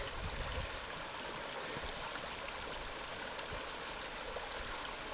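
A small stream and low-flow waterfalls run in upland countryside, giving a steady, even rush of water with faint trickling detail, moderately distant and uninterrupted.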